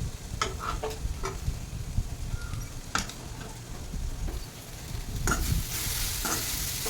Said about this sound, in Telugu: ఒక 5 నిమిషాలు వేగనిద్దాము. అది వేగిపోతున్నాయండి, ఆల్మోస్ట్ వేగిపోయినాయి.